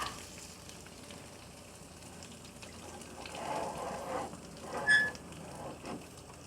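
Pandan-wrapped Indian mackerel grills in a hot pan, giving a soft, steady sizzle that swells briefly in the middle and near the end.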